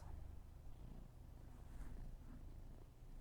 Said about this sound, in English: Listen to that purr.